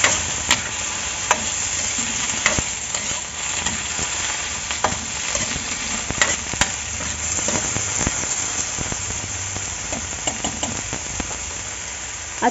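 Sardines, radish and water spinach stirred together in a simmering tamarind sinigang soup, giving a steady sizzle and bubbling with light scraping clicks from the spoon throughout, close and moderately loud, with no talking.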